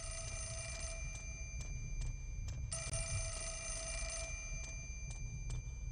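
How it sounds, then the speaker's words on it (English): A telephone rings in the horror video game Fatal Frame 4, in repeated bursts of bright, trilling bell tones over a low, steady background hum, with no voices. "Let's answer the phone before we do anything else."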